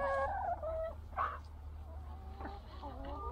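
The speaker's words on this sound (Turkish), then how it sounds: "Ve tavuklar suyunu dahi yiyor." Chickens gobble and cluck faintly near a citrus harvest outdoors while they eat dropped juice, their short wavering calls recurring over a steady low rumble of background noise.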